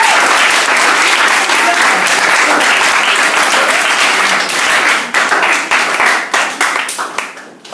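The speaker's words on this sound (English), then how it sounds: "Big round of applause, please" An audience at a poetry slam heat bursts into loud, dense applause that holds steady, then thins into scattered claps and fades out near the end.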